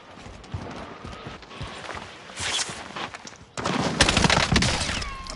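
Bursts of automatic gunfire from the Warzone shooter game, scattered shots early then a dense, louder volley of rapid fire in the second half, with a faint voice underneath.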